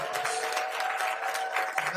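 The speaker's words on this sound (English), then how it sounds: "Let's give them a big round of applause" A convocation audience applauds the graduating class, a broad wash of clapping with a faint steady tone running underneath and possible voices mixed in.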